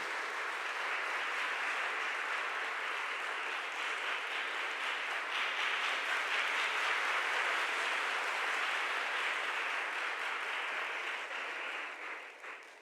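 Sustained applause from a congregation at a thanksgiving Mass for a nursing school capping ceremony, honouring the nurses' parents; a steady, dense wash of clapping that holds for the whole stretch and tapers slightly at the end.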